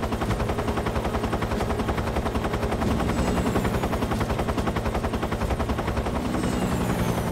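Deafening helicopter in Metal Gear Solid 3, a loud, steady rotor chop pulsing evenly throughout, with heavy low rumble and no talking over it.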